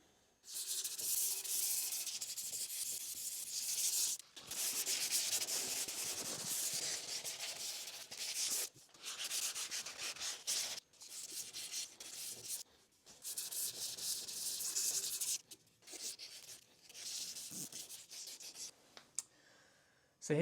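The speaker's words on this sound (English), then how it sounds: "I'll put the radius on the fretboard and level it before I do the final sanding and finishing." A guitar fretboard is sanded to a 10-inch radius on a rocking radius jig, giving long, steady back-and-forth abrasive strokes, loud and close, broken by a few brief pauses, with no talk.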